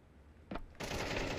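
Gunfire in a competitive online shooter match: a short crack, then a sustained loud burst of rapid shots that fills the rest of the moment.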